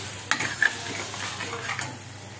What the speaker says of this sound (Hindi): अब मैं इसमें मशरूम डाल के 6-7 मिनट के लिए अच्छे से इसको भी भून लूँगी मसाले के साथ